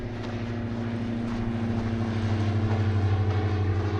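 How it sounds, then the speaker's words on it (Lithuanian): A small propeller airplane flying overhead, its steady low droning hum growing slightly louder and pulsing toward the end. "Lėktuvėlis."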